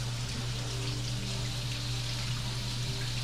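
An organic harvested Zucchino Rapicante zucchini is rinsed under a running tap, a steady, close, continuous gush of water with no variation or talking.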